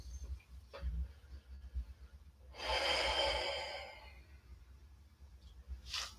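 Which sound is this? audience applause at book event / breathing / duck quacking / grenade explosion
breathing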